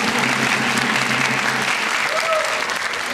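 Studio audience applause on a Taiwanese TV variety show, a steady, dense clapping crowd filling the room throughout, with faint voices beneath.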